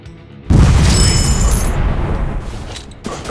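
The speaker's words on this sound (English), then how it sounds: "Grenade, get down!" A loud, close grenade explosion in the FPS Robot Shooter Strike mobile game bursts suddenly after a quiet start, then rolls off into a long rumbling decay with a faint voice.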